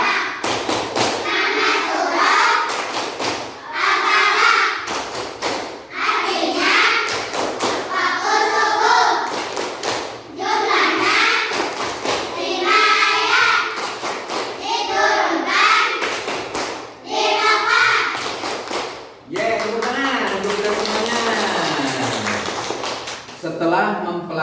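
A classroom of children clapping the Al-Falaq clap rhythm, bursts of hand claps in a patterned beat alternating with a teacher and pupils chanting.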